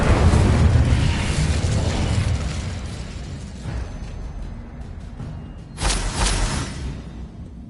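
The Incendio fire spell is cast in Hogwarts Legacy, a loud booming burst that trails off into a rumbling whoosh, followed by a second sharp crackling flare near the end.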